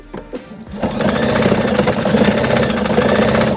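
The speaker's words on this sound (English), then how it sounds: "put your foot down, put your needle down, and just sew like 1/4 of an inch at least" A sewing machine stitches fabric for a plush donut dog toy. A few soft clicks come first, then a loud, close, steady mechanical whir that runs continuously to the end.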